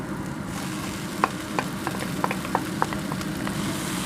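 Browned onions and peppers sizzle steadily in a frying pan while a utensil stirs them, giving a series of light scraping clicks over the constant hiss of frying.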